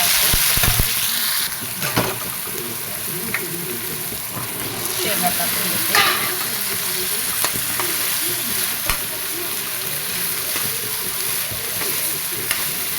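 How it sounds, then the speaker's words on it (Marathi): Ground spice paste hisses loudly in hot oil for a spicy drumstick curry, a continuous close sizzle broken by stirring scrapes and occasional sharper pops. "तेल गरम झाल्यावर सर्व मसाले टाकून घेते आता हे वाटून घेतलेले मसाला"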